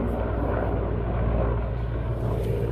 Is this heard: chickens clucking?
no